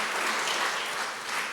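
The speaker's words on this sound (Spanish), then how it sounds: "Dale un aplauso fuerte a ese Dios que tenemos, por favor." A church congregation bursts into strong, dense applause, many hands clapping at once in a continuous, even roar with no voices over it.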